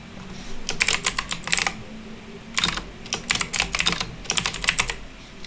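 Fingers typing on a computer keyboard in quick bursts of clicky keystrokes separated by short pauses, close and clear with no speech.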